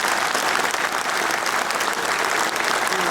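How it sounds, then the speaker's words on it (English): Attendees at a West Point Class of 1959 reunion give steady, sustained applause, a dense wash of many hands clapping throughout. "I'd like everyone to give a round of applause for Frank."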